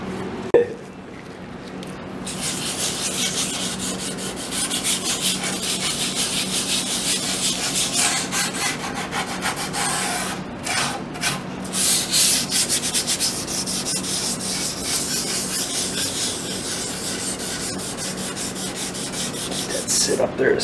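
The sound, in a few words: rubbing old finish off antique table with lacquer thinner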